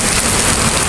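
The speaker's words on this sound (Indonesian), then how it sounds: "kondisina nuju diguyur hujan dina sonten ieu" Heavy rain pours down on a Tuesday evening in late October, a dense, loud and continuous roar of drops close by, with no voices.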